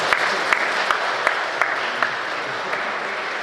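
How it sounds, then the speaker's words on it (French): Applause from a church congregation at a baptism and first communion ceremony: steady, dense clapping from many hands continuing throughout, with a few sharper claps standing out. "Acclamons très fort pour eux."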